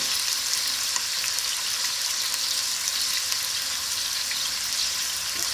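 Garlic sizzles in a hot pan as pork ribs are cooked Italian style, a loud, even hiss of frying that holds steady throughout, with no voices.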